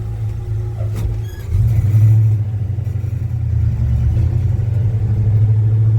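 A Chevy C10 pickup truck idles and then pulls away in first gear, a steady low engine rumble that swells as it gains speed, heard from inside the cab.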